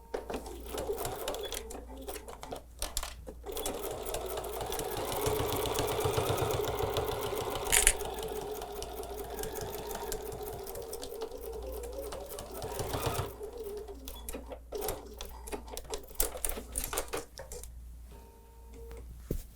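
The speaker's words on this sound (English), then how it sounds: "let's get started now sewing with both layers now of the binding strip folded with the wrong sides together, right sides out" A sewing machine runs in long steady bursts, stitching through both folded layers of a fabric binding strip, its rapid mechanical whir continuous with short pauses and handling noises between runs.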